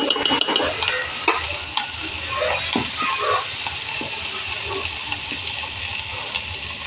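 Onion, tomato and turmeric stirred in a hot pan give a steady sizzling hiss broken by scraping clicks of the spoon against the metal, close and fairly loud.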